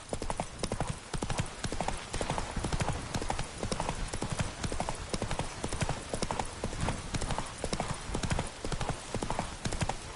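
Roach, the horse in The Witcher 3, gallops at a steady pace, close hoofbeats drumming in an even, continuous rhythm throughout, with no pauses.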